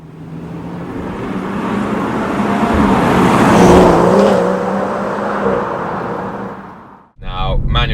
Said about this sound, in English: It's dropped down a gear, and it really takes off.